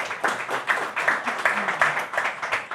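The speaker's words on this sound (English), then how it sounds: "Round of applause for Rudolph" Audience applause for a speaker at an education event in Ghana, a steady patter of many hands clapping at moderate loudness with a faint voice underneath.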